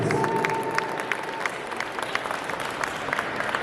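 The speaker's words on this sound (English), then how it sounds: "Give her a round of applause, please" A convention audience at a voice actor Q&A panel gives a round of applause, dense overlapping clapping with a little crowd murmur and a hint of cheering, steady throughout and fairly loud.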